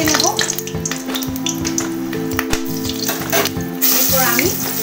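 Split green chillies frying in hot oil in a pan, a crackling sizzle broken by stirring clatter and a few sharp spoon knocks, close and loud with no talking.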